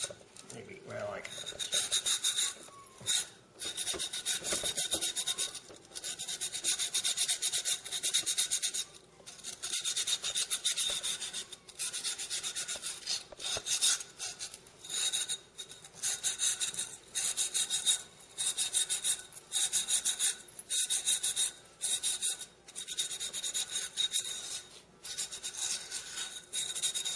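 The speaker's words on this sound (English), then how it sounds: "take a little cloth, a silicon carbide cloth, and just go along the edges" Silicon carbide cloth rubs along the cut edges of a glass bottle in repeated short strokes, a close, gritty rasping that starts and stops in bursts with brief pauses between passes.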